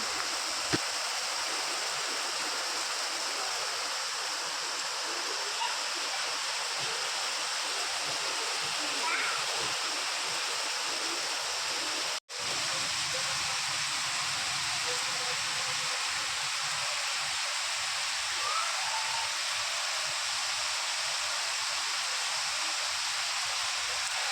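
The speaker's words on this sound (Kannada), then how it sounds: "ನಿನ್ನೆ ನೈಟ್ ಕೂಡ ತುಂಬಾ ಮಳೆ ಆಗಿದೆ ಅದರ ವಿಡಿಯೋ ಕ್ಲಿಪ್ ಇದು ತುಂಬ ಜೋರಾಗೆ ಆಗಿತ್ತು ಮಳೆ" Steady, dense hiss of rain pouring without a break, broad and even throughout, with a brief dropout near the middle.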